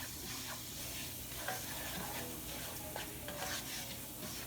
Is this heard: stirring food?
yes